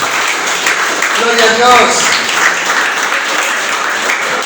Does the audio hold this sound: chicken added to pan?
no